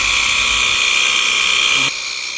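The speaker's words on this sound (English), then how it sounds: "keep the machine at your waist level so the pressure is created" A portable 18V car pressure washer running, with a steady high motor whine that drops in pitch and level near the end, close and loud with no talk.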